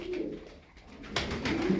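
Tumbler pigeons coo softly and steadily, low rolling calls repeating close by with no talking.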